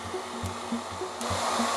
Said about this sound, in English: let's turn on the hairdryer.